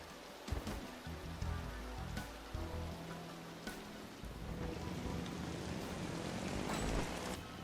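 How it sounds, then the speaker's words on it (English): Heavy rain hisses steadily in the MotoGP 16 racing game, with sharp thunder-like cracks and thumps punctuating it, loud and continuous throughout without any voices. "so we've got to race in this heavy rain with the thunder"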